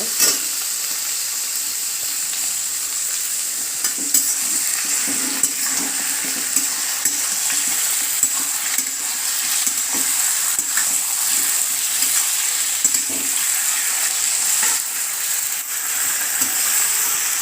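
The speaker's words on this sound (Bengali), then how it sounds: "চিকেনটা দিয়ে ভালো করে ফ্রাই করে নিতে হবে।" Chicken frying in a pan for a light crunchy chilli chicken, a continuous loud sizzle of hot oil with intermittent scraping and stirring knocks, no talking.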